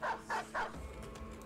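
A dog barks three times in quick succession during a video game fight, close and moderately loud, then fades into a quieter game background.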